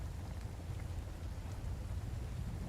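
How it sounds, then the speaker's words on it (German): Rain patters inside a helicopter in the video game Sons of the Forest, a dense, muffled, steady rush of drops with low rumbling underneath. "Wieso hört man den Regensounds im Heli?"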